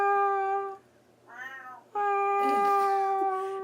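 A voice imitates a cat meowing: two long, drawn-out tonal meows separated by a short, softer wavering cry, loud and close with no other sound.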